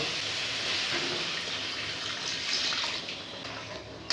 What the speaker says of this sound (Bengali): এবারে আমি দিয়ে দিব সামান্য জল